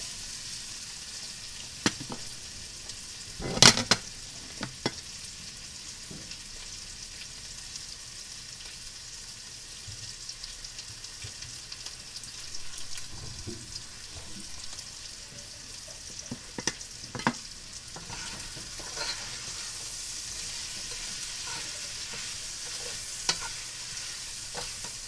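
Pork frying with onion in a pan as it is stirred and turned for a Filipino pork afritada stew, giving a continuous soft sizzle broken by scattered scraping knocks and one louder clatter near the start, with no talk.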